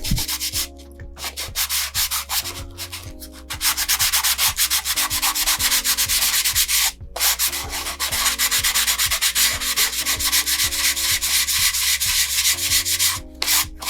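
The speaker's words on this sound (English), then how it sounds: "That's where it needs to be sanded." Sandpaper rubs back and forth over a smashed balsa-wood model rocket fin in loud, close, rhythmic strokes that carry on almost continuously, with only a few brief pauses.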